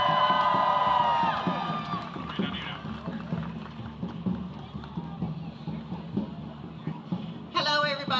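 A protest crowd cheers and whoops for two speakers being introduced, loud at first and then easing into ongoing crowd noise while a voice talks.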